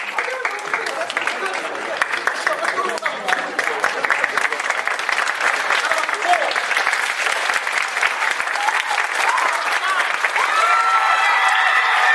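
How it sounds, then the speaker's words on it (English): A school event crowd claps steadily in light golf-clap style, a sustained wash of many hands patting softly in a large room, building slightly toward the end. "Can we do the little level 1 golf clap?"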